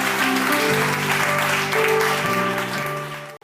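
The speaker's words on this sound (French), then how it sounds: "J'aimerais qu'on acclame très fort pour ça" A church congregation claps and cheers loudly in a sustained, dense burst, with musical tones ringing underneath until it cuts off abruptly.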